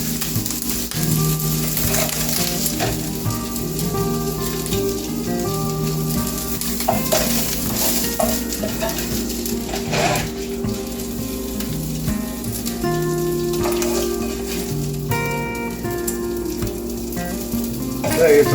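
Sausage sizzling in a pan while an upside down pizza is made, a continuous close frying hiss with occasional stirring and scraping, steady and fairly loud over a faint tonal background.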